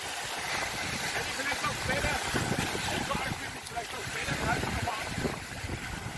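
Strong wind buffeting the microphone on a sandbank in the middle of the ocean, a continuous broadband roar with gusty surges, while people talk faintly underneath.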